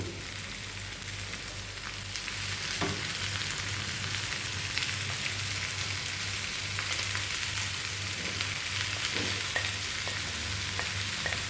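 Prawns and spinach hit a hot pan with onion and garlic, giving a steady, close sizzle of frying with occasional stirring clicks, constant hiss throughout with no talking.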